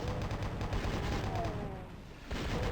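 Rapid chain-gun fire from Doom II chaingunners rattles in a dense, continuous barrage that dips briefly near the end before resuming, loud and close, with no talk over it.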